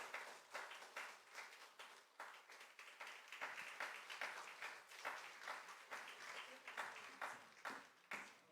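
Scattered applause at a university chapel service after a student award presentation in Korea, a faint and uneven patter of individual claps with distinct strikes, somewhat distant.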